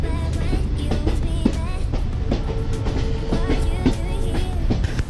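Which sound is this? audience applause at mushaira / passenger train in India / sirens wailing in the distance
passenger train in India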